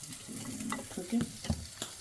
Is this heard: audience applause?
no